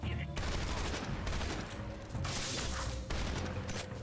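M37 shotgun fire in Metal Gear Solid Delta: Snake Eater, dense loud booming blasts that overlap into a continuous roar with short breaks, heavy and close.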